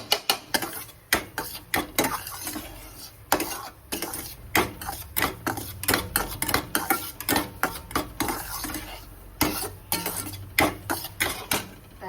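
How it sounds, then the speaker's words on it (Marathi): A spoon scrapes and clinks against a pan as semolina is stirred and roasted dry, with quick, irregular strokes repeating close by and no talking. "छान भाजून घेते मी"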